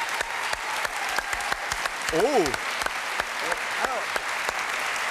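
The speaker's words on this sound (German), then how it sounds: "Applaus für Philipp." A studio audience at a TV Total game show applauds a contestant, steady close clapping throughout with a brief spoken exclamation in the middle.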